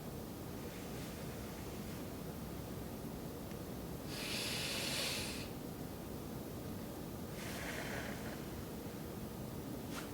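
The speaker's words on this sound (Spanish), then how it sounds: "Y luego bota por la boca con los labios fruncidos como si fuera a dar un beso, sin forzar el aire." A slow breath is pushed out through pursed lips during a lung-clearing breathing exercise, heard as two soft airy hissing exhales of a second or so each over steady background noise.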